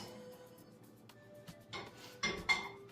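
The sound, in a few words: cooking pot being handled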